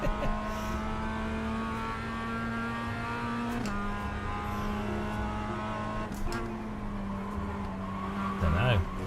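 Racing video game car engine at steady RPM, a droning tone with harmonics that shifts pitch at gear changes, heard continuously alongside background chatter.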